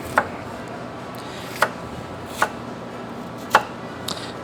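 A knife trimming the root and stem ends off mushrooms, five crisp taps on a cutting board spaced about a second apart, close and clear against a quiet kitchen background.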